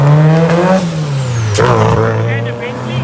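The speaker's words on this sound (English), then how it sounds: "Audi TT." An Audi TT racing up the Knysna Hillclimb, its engine note rising and then dropping in pitch as it passes fairly close and loud, with someone talking over it.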